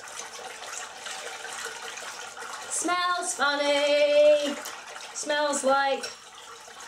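Woad dye liquid being aerated by hand, a continuous sloshing, splashing water sound that swells louder in the middle, with people talking over it.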